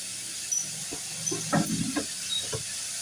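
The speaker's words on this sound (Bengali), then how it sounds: "আমি রাঙালু ছিল রাঙালু দিয়েছি আর এটা একটুখানি হালকা ভাজা ভাজা করবো বেশি না" Sweet potato pieces fry lightly in a pan with a steady close hiss, broken by a few soft knocks and shuffles as they are moved around.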